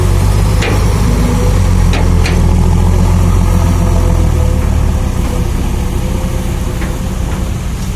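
An Isuzu or Fuso truck diesel engine idling, a loud, steady, low rumble that holds level throughout, with faint clicks and knocks on top and no talking.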